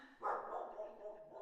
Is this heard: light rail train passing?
no